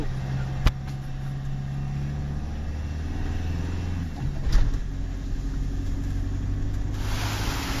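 A motorhome crawls up a steep mountain road in first gear, its engine droning steadily and fairly close, with a sharp knock near the start and a brief surge midway.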